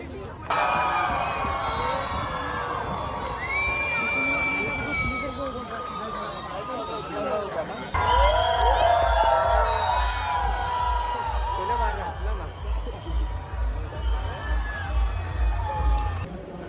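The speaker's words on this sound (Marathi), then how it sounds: "इथं आज ट्रॅफिकची गर्दी नाही पण पब्लिकचीच लय गर्दी" Spectators crowd the roadside at Pune's international cycle marathon, a dense outdoor hubbub of overlapping voices and shouts with a low rumble joining halfway through.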